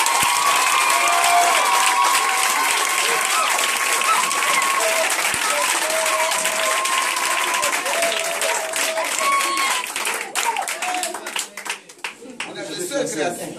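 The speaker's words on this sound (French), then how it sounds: "Est-ce qu'on peut l'acclamer?" A church congregation applauds during a healing testimony, with loud, sustained clapping from a crowd that fades near the end as voices and murmuring rise.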